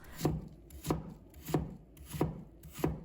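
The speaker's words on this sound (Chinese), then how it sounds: "然后再给它切成小粒，可以稍微切小一些" A knife chopping apple into small pieces on a cutting board, five evenly spaced firm thuds at a steady rhythm, close and clear with no talk.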